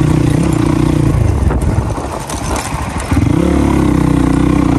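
A motorcycle engine idles steadily and loudly up close, with a brief dip in the middle before the low rumble returns.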